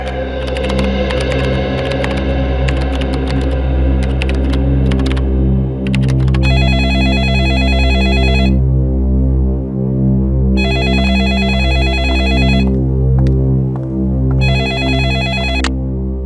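A telephone rings in repeated electronic bursts during a tense crime-drama scene, each ring lasting about two seconds with pauses between, loud over a steady low hum and a few sharp clicks.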